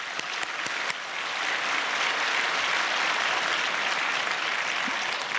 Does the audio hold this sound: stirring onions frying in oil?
no